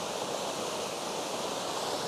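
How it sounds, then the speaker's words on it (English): A hidden waterfall roars steadily and close, a dense unbroken rush of falling water with no voices over it. "Hidden waterfall, you wouldn't even know it's here"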